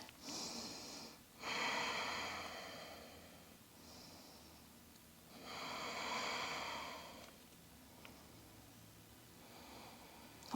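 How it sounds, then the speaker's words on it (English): Slow, deep breaths during a seated hip mobility stretch, with two long airy exhales and softer inhales between, close and quiet with no talking. "And breathe."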